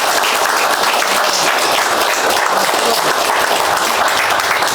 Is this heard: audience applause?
yes